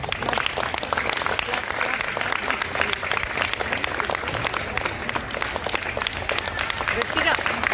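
Audience applause at a classical dance performance in a Vinayaka Mandapam, dense steady clapping from a crowd throughout, with a voice speaking over it.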